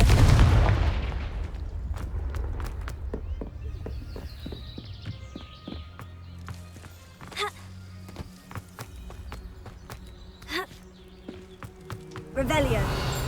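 A Confringo blasting spell from Hogwarts Legacy bursts in a loud, booming explosion at the very start, then fades into a low rumble with scattered thuds and clicks as game ambience continues.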